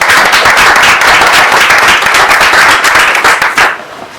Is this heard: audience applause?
yes